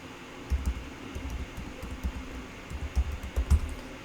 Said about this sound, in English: So here we're gonna type in the password